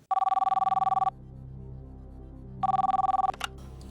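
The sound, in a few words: telephone ringing as a call is placed to a viewer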